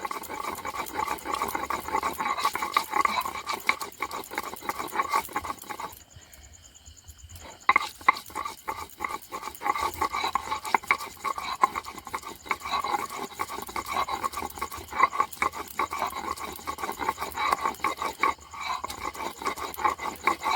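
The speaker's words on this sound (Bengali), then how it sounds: "নিয়ে এবার আদাটা বেটে নেব।" Fresh ginger ground on a stone grinding slab (shil-nora) in a home kitchen, a steady run of rough scraping and grinding strokes close by, pausing briefly midway before the rhythmic rubbing resumes.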